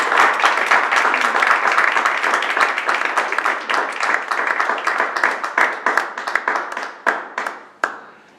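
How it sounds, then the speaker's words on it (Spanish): Warm audience applause fills a room at a book presentation, a dense burst of clapping that thins into scattered, separate claps before fading out. "pido un aplauso grande"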